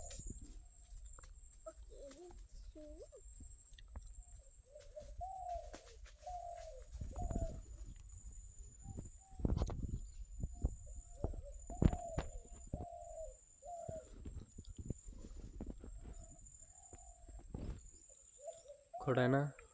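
Birds calling repeatedly at a fishing spot, short cooing and clucking notes recurring through the clip over a steady high whine, with people talking and knocking sounds in between.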